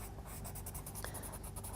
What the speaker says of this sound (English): just start as if it was a colour pencil, colouring over the top of every area on the tomato